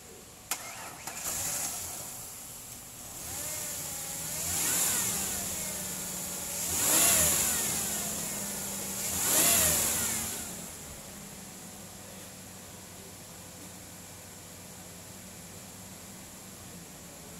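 A 1999 Mazda B4000 pickup with 177,006 miles starts and idles, with three rising-and-falling revs at a moderate distance before it settles into a quiet steady idle.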